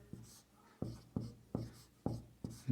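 A maths solution being written out by hand: six distinct strokes land at a steady rhythm, each a sharp tap followed by a short scratching drag, close and fairly quiet with no talking.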